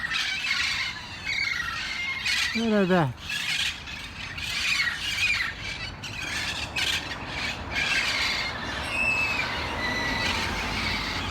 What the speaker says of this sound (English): The damn parrots.